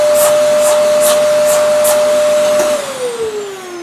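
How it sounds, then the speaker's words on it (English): A vacuum cleaner tube roars loudly and steadily up close as it sucks debris off a weathering tool covered in tiny hooks, with a short hiss as the pitch drops and the suction eases near the end. "So I'll just get my vacuum tube and..."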